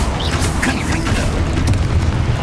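A Confringo fire spell goes off in Hogwarts Legacy, a loud, dense blast-like roar with crackling bursts sustained throughout.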